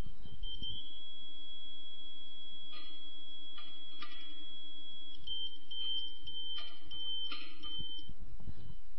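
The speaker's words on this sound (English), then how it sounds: "Change direction until you hear the continuous tone, and keep going until the beeper tone drops again." A satellite terminal antenna pointing beeper gives a steady high tone that breaks into intermittent bursts as the dish is turned, heard close and alone over a low background hum.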